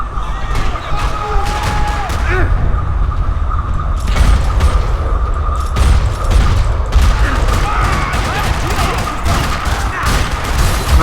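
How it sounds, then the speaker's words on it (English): Dense, loud gunfire in a parking lot in the video game Max Payne 3 rattles continuously amid booms and mechanical clatter, with a voice occasionally audible beneath. "parking lot rattling with gunfire."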